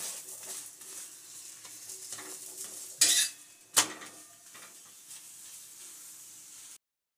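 A pea paratha frying in oil gives a low steady sizzle, broken by two sharp clanks of a utensil against the pan midway, then quieter frying before it cuts to silence.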